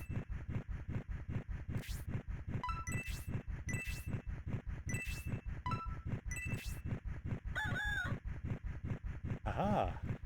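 Video game chickens cluck over a steady rhythmic pulse, with bright chiming and tinkling jingles popping in at intervals throughout.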